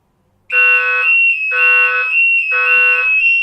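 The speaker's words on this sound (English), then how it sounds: "So that was the panic alarm." A home security system's panic alarm sounds in three loud, piercing electronic blasts with short gaps between them, close and clear, with no one talking.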